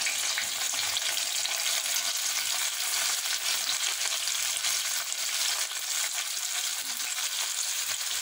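Chopped tomatoes sizzle in a hot pan for mutton kuzhambu, a steady, close, even frying hiss that runs unbroken with no voices.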